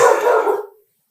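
One loud, close dog bark bursts out and fades quickly into silence, heard alone with no talking.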